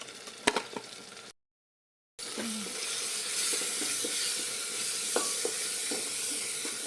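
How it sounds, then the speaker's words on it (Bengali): Ginger paste, ground cumin and ground coriander frying in a pan for beef khichuri, a constant close sizzle with a few scraping stirs, broken by a brief silent gap, no voices. "1 মিনিট মশলাটাকে ভুনা করব।"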